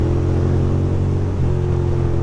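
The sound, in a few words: big truck passing on a city street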